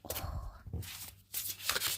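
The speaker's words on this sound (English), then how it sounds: "That sounds like a good shuffle." A deck of cards being shuffled, with two bursts of riffling and bridging close up, separated by a short pause.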